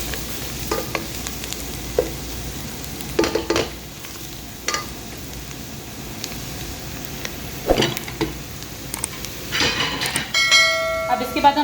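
Spices such as salt, red chilli, turmeric and coriander being stirred into okra and onions frying in a pan, with soft intermittent scraping and clinks under a low sizzle, spaced out over several seconds.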